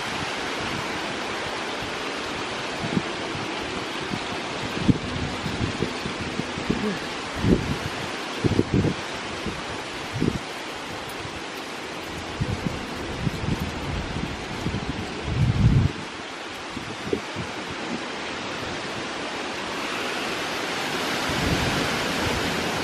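Steady outdoor October wind roars and rustles throughout, with brief bumps and knocks breaking through now and then.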